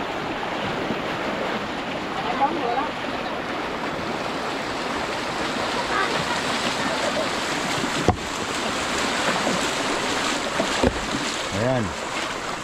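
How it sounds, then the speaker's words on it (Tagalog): Strong floodwater rushes in a fast current, a loud, continuous turbulent roar mixed with wind buffeting the microphone and a few brief knocks. "Yung lakas talaga ng current. Grabe."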